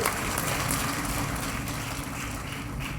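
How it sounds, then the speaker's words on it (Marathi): An audience at a Maharashtra–Goa notary conference applauds to welcome a guest, a dense, continuous wash of clapping that stays fairly level from start to finish. "त्यांचं टाळ्या वाजून कृपया स्वागत करावे"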